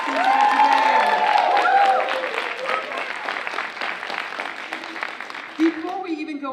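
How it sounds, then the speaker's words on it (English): Audience at an elementary school vocabulary bowl applauds the contestants, a loud, sustained burst of clapping with cheers and children's shouts that fades into scattered claps and talk. "could we please have another round of applause for all of our contestants here today?"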